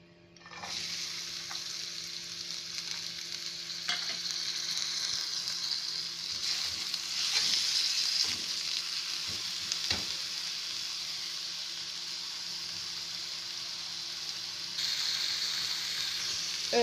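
Cauliflower omelette mixture fries in an oiled pan with a steady, moderately loud sizzle and occasional stirring scrapes and taps, and no one speaks.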